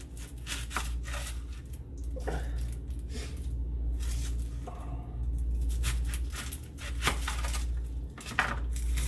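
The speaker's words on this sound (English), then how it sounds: "So we're going to go ahead and cut our onion here." A knife cuts through an onion on a board, a series of close, crisp chopping taps and crunches spread across a quiet, low-humming kitchen background.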